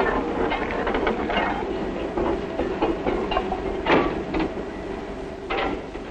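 A Dutch-built wood-burning steam tram runs on a line in Java, Indonesia, with a continuous loud rumble of the moving carriages, rattling metal and intermittent clanks and squeals throughout.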